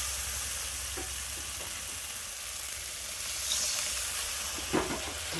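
Water poured into hot oil and frying spice masala for a spicy fish curry sets off a steady, loud sizzle and hiss that runs throughout, with a few faint clinks of stirring.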